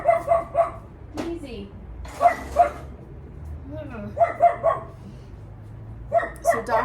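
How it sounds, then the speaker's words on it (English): A protective dachshund barks in repeated bursts of sharp, high yips close by, with short pauses between volleys and a brief spoken word in between. "So dachshunds are like the sweetest dogs, but they're so protective."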